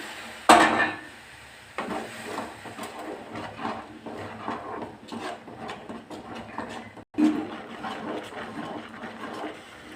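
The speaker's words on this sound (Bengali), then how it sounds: "এইভাবে অনর্বরত আমি নাড়তে থাকবো যাতে ধরে না যায়" A spoon stirs semolina in a pan of boiling sugar water with cardamom over a low flame for suji halwa, giving repeated scraping knocks and clatter against the metal, with a sharper clank near the start and another later on.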